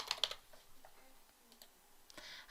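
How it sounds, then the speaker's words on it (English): Room details entered on a computer keyboard in property marketing software, with a burst of quick key clicks at the start and a few scattered, softer taps after it, close and fairly quiet, no talking. "start typing in the feet and inches"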